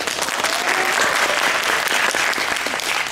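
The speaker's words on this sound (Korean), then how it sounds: "이상하게 박수를 오늘 받는 것 같아요." Steady applause from a cinema audience at a film Q&A event fills the whole stretch, dense and loud with a faint crowd murmur underneath and no speech.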